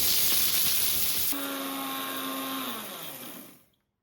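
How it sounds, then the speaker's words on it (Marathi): A mixer grinder whirs loudly as it grinds roasted sago into fine flour, its motor tone settling into a steady whine before winding down and stopping. "नंतर मिक्सरच्या भांड्यामध्ये टाकून याला अगदी बारीक करून घ्यायचं आहे।"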